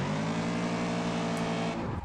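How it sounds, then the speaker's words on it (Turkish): Car Parking Multiplayer tire burnout: a steady, loud engine drone with layered harmonics holds for about two seconds, then shifts and drops near the end, with no talk over it. "Biz de o arada biraz lastik yakalım derken arabayı pert ettik ne yazık ki."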